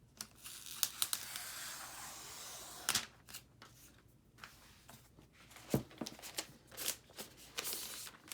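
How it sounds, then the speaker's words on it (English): Plastic protective wrap peeled off a new 2018 Space Grey MacBook Pro with an aluminum body: crinkling, tearing rustles in irregular bursts, close and fairly quiet, with no talk. "let's go ahead and take this plastic wrap off"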